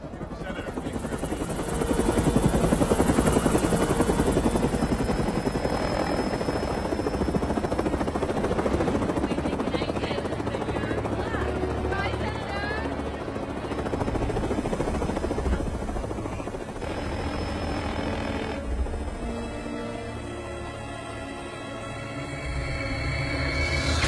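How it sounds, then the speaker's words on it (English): A helicopter in flight holds steady and loud throughout, a dense rotor and engine roar filling the scene as people speak over it. "Our helicopter's going down."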